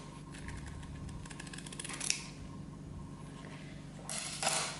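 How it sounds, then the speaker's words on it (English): Sharp scissors snip diagonally through a 2 1/4 inch ribbon for a boutique hair bow, making close, crisp mechanical cuts against a steady background hum, with a louder snip near the end. "And I need to cut this one diagonally."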